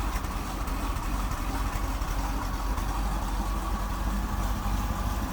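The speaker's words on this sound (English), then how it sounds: "Slight exhaust leak, sounds like." A 1972 Oldsmobile 98 Luxury Sedan hardtop idles steadily with a slight exhaust leak, giving a low, even rumble throughout with no voices.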